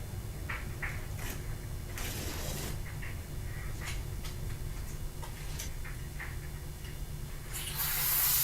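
Brake cleaner sprays onto a rag in a few short faint hisses over a steady low background hum, with a louder spray burst at the end.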